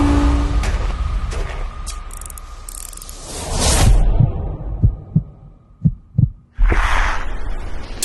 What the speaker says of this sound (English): a lot of people submitted heartbeats